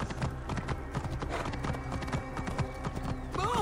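Horses gallop with riders in Assassin's Creed Origins, ancient Egypt, a dense run of rapid hoof clip-clops at close range with a brief whinny near the end, set against game music, with no talk over it.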